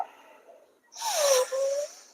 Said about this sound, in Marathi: दीर्घ श्वास घ्या दीर्घ श्वास सोडा